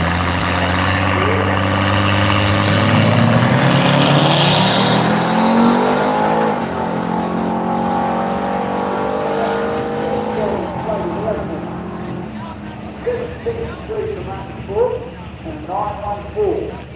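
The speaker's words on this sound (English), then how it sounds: "They started their burnouts while they were reading the times out." Drag racing street machines doing burnouts, loud revving engines with rising and falling pitch that roar up then trail off into sputtering pops, while a commentator talks over them.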